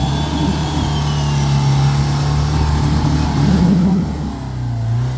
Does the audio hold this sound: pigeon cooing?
no